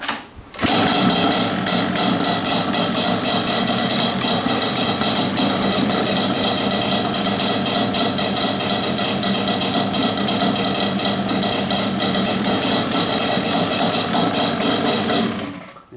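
Yamaha Banshee two-stroke engine with pipes needing repacking, cold started without choke and barely running: a loud, close, rapid, uneven putter that continues steadily for about fifteen seconds before cutting off.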